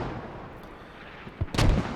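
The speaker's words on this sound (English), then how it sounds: "OB mortars coming back" Mortar fire in the video game Squad: a low, muffled rumble gives way to a sharp thump and then a heavier, louder impact near the end of the short stretch.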